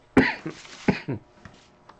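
Two sharp coughs close together, followed by a few quieter, softer coughs trailing off, with no talking.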